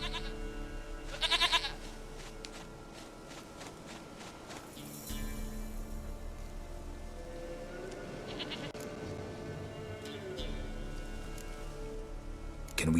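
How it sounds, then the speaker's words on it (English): Goat bleats in The Witcher 3: Wild Hunt, a couple of short bleats near the start and middle over steady game music and ambient background, no talk. "Goat of mine, dearest, sweetest goat."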